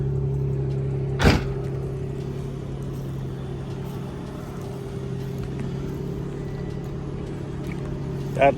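A Nissan Skyline R34 Nismo with about 180,000 miles idles steadily nearby, a constant low hum with a couple of brief sharp clicks over it.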